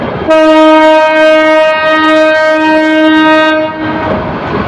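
The Noakhali Express pulling into a platform at Kamlapur railway station in Dhaka blasts a very loud, sustained horn for several seconds close by, followed by a lower rumble as the sound fades.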